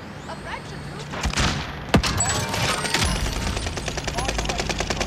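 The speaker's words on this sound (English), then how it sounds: "Throwing a grenade." A thrown grenade bursts in a video game battle royale match, a sharp blast near the two-second mark followed by rapid bursts of gunfire, with players talking over the action.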